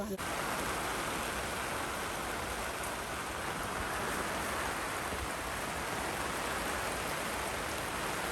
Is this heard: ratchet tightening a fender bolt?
no